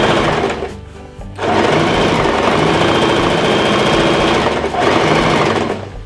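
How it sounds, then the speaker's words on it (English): Sewing machine stitching a seam with red thread for a box pleat, running loud and steady, pausing briefly near the start and dipping again toward the end, with no talk over it. "I've got some red sewing thread, so it'll be really obvious where I'm stitching"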